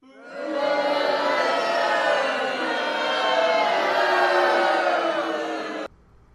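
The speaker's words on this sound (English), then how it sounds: "Here's where I put in the clip of them booing." A studio audience booing together, a dense sustained crowd roar that holds loudly for about five seconds and then cuts off abruptly.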